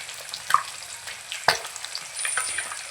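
Fish frying in hot oil, a soft crackling hiss broken by two sharp spatter pops or utensil taps, brief and close, with no voices.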